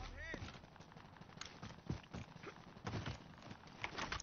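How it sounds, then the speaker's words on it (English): Gunfire in the Call of Duty: Warzone video game, a few sharp shots and footstep-like clatter amid game noise, with players talking over it. "Gunshot on top there."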